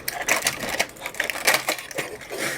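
Plastic clicks and snapping crunches come in several irregular bursts as the left side cover is pried off an Epson L385 printer that has no power, close up and fairly loud.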